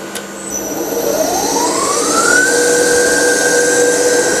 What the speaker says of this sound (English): So I'm going to fire the test bench up now